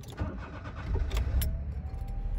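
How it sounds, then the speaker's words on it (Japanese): A car engine starts in one quick crank and catches, settling into a steady low idle close by, with no talking. "早速エンジンかけてみましょう"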